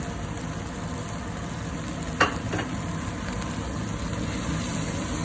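Spices sizzling in a pan of chilli and capsicum jam, a soft steady frying hiss with one brief scrape or clatter partway through, close and continuous with no voices.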